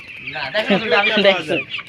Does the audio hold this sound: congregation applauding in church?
no